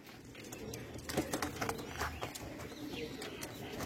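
Andhra lambadi pigeons give soft, low cooing calls close by, several overlapping coos against a steady noisy background with occasional wing flutters or rustles.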